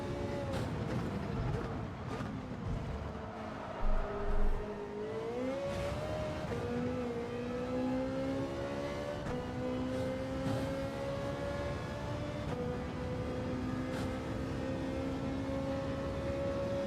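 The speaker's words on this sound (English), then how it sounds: "Sounds good, doesn't it, this car? It's got one of those engine notes" A race car engine in Gran Turismo 7 time trials, a steady drone with a bright harmonic tone that dips, then climbs and holds, like a car cruising at speed, continuous and fairly close.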